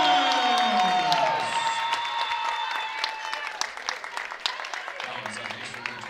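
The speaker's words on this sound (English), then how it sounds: "That gets the home crowd on its feet." A home crowd at a women's college basketball game between Ouachita and Southeastern Oklahoma State roars with loud cheering and applause in a gym, with whoops and whistles, sustained throughout and thinning slightly toward the end.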